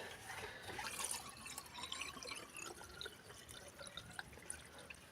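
Water is poured into an Adriatika JET 100S surface pump under repair, a faint close splashing and trickling that runs unevenly throughout, slightly louder at the start, with no talking.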